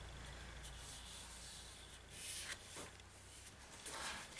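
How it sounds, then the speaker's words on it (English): A paper insert being rubbed down inside a vintage-style handmade card gives a soft, steady rubbing and brushing close by, swelling slightly toward the end, with no talking. "I'll just give that a little rub so that it adheres to the inside nicely."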